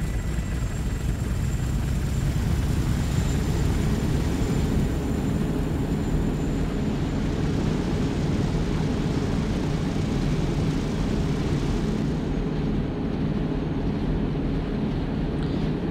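An airplane engine in Arma 2 drones steadily for the whole stretch, loud and constant like a nearby aircraft on or over a runway, with a dense rumbling roar and no talking.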